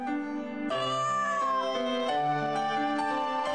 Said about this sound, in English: Watching Kyouko and the kitten go back and forth meowing at each other sets my heart on fire.